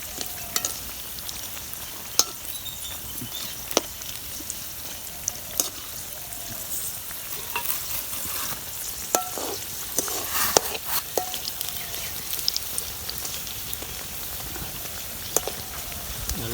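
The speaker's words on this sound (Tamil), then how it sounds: "நல்லா வடை நல்லா பொரிஞ்சு வந்திருக்கு, நல்லா பொன்னிறமாக வந்திருக்கு" Masal vada frying in hot oil for a wedding-style cooking session gives a continuous, close crackling sizzle with scattered sharp pops and spatters, and no talking.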